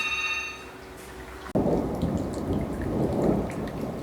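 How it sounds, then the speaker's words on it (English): Thunder rolls through a late afternoon thunderstorm in Colesberg, Northern Cape, a deep sustained rumble that starts with a sudden swell and carries on over steady rain noise, with no voices. "Listen to the thunder."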